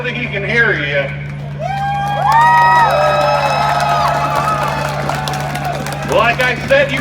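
Crowd at a monster truck show in Hilliard, Ohio, cheering and whooping loudly in rising swells for several seconds, with an announcer's amplified voice at the start and end.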